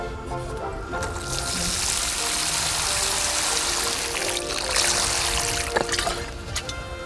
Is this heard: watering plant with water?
yes